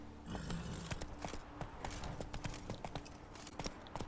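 Horse hooves clip-clop in the video game The Witcher 3: Blood and Wine, a quiet, irregular run of hoof strikes over a steady background bed.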